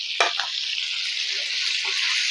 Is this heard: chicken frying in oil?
yes